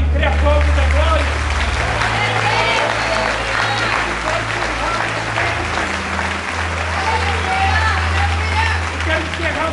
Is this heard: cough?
no